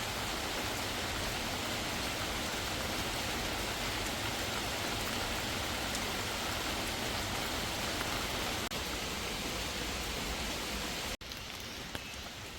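Steady rain falls outdoors, a dense, even hiss of drops on leaves and ground that holds at moderate loudness for the whole stretch before briefly easing near the end.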